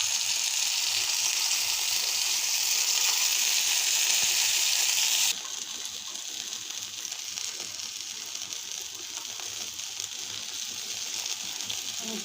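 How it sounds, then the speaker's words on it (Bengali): Thinly sliced food marinated with lemon juice, turmeric, chili powder, ginger and garlic sizzles in a pan, a loud, continuous close frying hiss that drops to a quieter, crackling sizzle partway through, with no talking. "আমি এখন এটা ভাজবো।"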